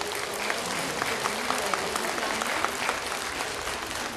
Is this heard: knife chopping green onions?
no